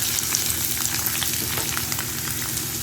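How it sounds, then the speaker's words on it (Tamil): Onions sizzling and frying in a little oil in a hot pan, a steady close crackle with occasional stirring and no speech. "அந்த வானல் காஞ்சி எடுத்து அதில் கொஞ்சமாக எண்ணெய் ஊற்றிக்கும். அதில் வெங்காயத்தை போட்டுக்குவோம்"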